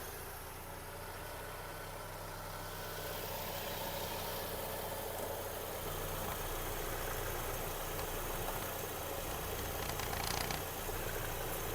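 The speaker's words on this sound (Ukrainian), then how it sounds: "Автомобіль завівся з півтику." A 2008 Volkswagen Golf 5 1.6 MPI petrol engine idles steadily at close range, a continuous low rumble with a faint mechanical hum and no voices.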